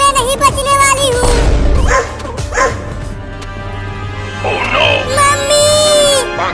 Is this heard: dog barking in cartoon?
yes